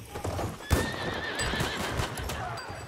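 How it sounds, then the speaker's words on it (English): Horse in the Battlefield 1 video game, a loud neigh followed by clattering hooves galloping off amid battle ambience. "it's a horse, he's leaving."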